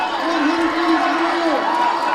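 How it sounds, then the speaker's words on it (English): A stadium crowd at the Penn Relays roars steadily as a runner comes down the final straight of a steeplechase, with a commentator talking over the noise. "The crowd trying to will him forward."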